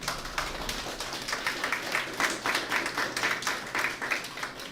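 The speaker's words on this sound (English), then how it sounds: "Can we give a clap?" Audience clapping at a church retreat session in Goa, a steady wash of many hands applauding with faint rhythmic pulses, continuous and moderately loud.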